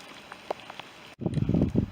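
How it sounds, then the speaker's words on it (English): Heavy rain falling through the woods at Beauport Park, a faint patter that cuts out briefly and then returns as a louder, dense steady roar. "although the rain's getting heavier."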